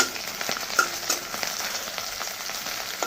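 Vegetables fry in a pan with hot oil, a steady sizzle broken by a few soft stirring taps and scrapes, close and moderately quiet with no talking.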